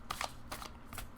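Oracle cards being shuffled by hand in short quiet riffling bursts, three or four quick flurries close to the microphone with brief pauses between.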